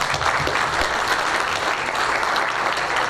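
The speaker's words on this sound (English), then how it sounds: "Let's give them a round of applause." Dense, steady applause from a crowd at a campaign event, loud and sustained throughout with no break.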